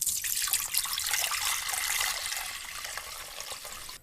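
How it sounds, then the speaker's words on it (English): Tap water running into a pot, a steady bright splashing rush that gradually softens as the pot fills, close by with no talking. "I'm going to fill this pot."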